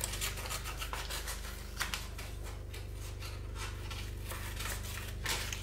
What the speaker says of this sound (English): And then we're gonna take our scissors.